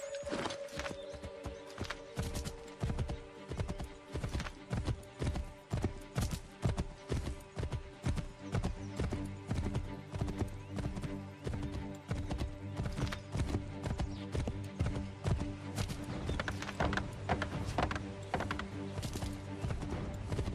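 Horse hooves clip-clop in the Assassin's Creed III video game, a steady rhythmic run of close hoofbeats through most of the passage, with a faint whinny near the start and sparse background game sounds.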